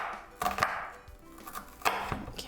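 A knife chops through half an onion on a cutting board, giving a few sharp, close thuds in quick pairs with quiet pauses between them, and no voices.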